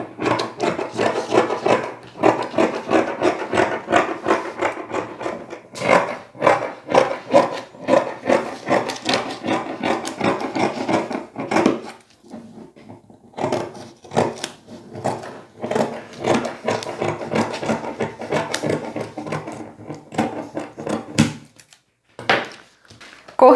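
Scissors cutting along a pattern edge through folded knit fabric for a child's pajama pants, a steady series of close, soft rasping snips with brief pauses between runs.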